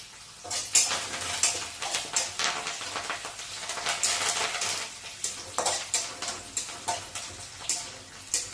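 Dried red chillies, green chillies and curry leaves fry in a pan, a close, continuous sizzle broken by repeated clinks and scrapes of a ladle against the metal, with no voices.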